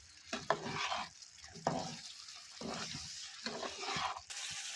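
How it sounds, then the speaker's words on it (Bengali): Sour yogurt is stirred in a pan for a prawn dish, giving soft scraping strokes in short bursts over a faint sizzle. Quiet and close, with no voices. "টক দই দিয়ে হালকা নেড়ে চেড়ে নেব,"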